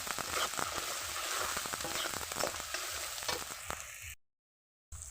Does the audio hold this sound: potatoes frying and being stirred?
yes